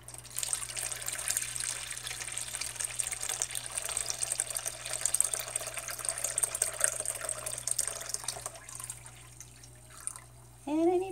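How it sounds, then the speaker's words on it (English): Water poured and trickling into a container while measuring it out for shea shaving-stick soap making, a steady indoor stream for most of the clip that thins toward the end, followed by a brief voice. "Next, we need to get our water measured out."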